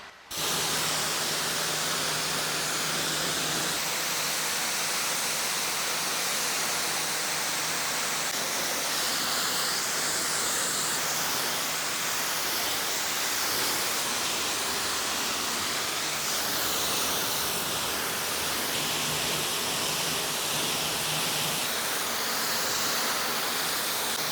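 A 2003 Volkswagen Beetle gets its final water rinse during a full detail, a loud, steady hissing spray of water that runs unbroken with slight shifts in tone.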